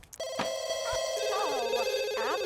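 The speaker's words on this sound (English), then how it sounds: "Oh, the phone's ringing" A phone rings in The Sims 2 game, a steady electronic ringtone with warbling melodic tones repeating over a sustained hum, loud and continuous.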